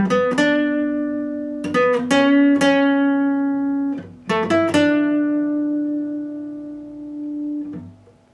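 The interlude on guitar at full speed: a series of plucked notes and double stops, each ringing and fading before the next attack, played close and clean without any talking.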